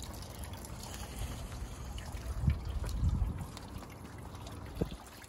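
Water trickles and splashes steadily into a bucket from the spout of a mobile fruit tree container. The flow stays soft and continuous, with a few louder gurgles partway through.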